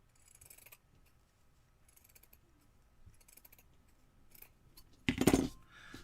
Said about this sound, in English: We'll cut this one just a little thinner.